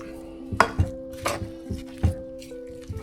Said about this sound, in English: All right, and stir it in.